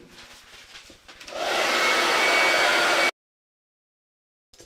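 Hair dryer blowing on chalk paste over a silkscreen transfer mesh, a steady loud whoosh that starts after a quieter moment and cuts off abruptly into silence.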